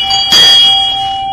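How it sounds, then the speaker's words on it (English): A brass bell is struck once, and its clear metallic ring hangs on and slowly fades over more than a second. "get a bell and then ring the bell"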